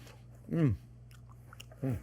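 Close chewing of a bite of buttery homemade pain de mie sandwich bread, two soft crunchy bites separated by a pause, over a low steady hum.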